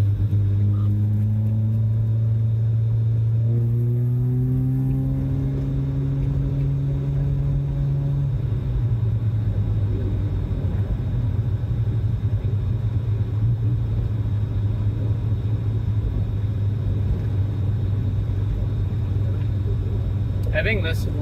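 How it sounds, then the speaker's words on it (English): A Mazda RX7 with a self-built naturally aspirated Bridgeport-ported 13B rotary engine driving on a small road, a steady close low engine drone with rising pitch early on as it accelerates, then a sustained cruising rumble with someone talking over it. "Having this little road like directly outside of my house is pretty wicked for just going for a quick little rip in a car."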